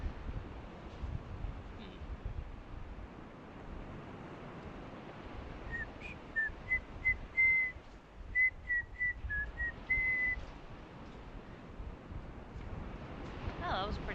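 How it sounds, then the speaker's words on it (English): A person whistles a short tune of about a dozen clear, quiet notes in the middle stretch, set against faint background hiss with no other clear sounds. "Oh, that was a pretty good whistle I got there."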